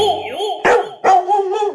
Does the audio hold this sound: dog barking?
yes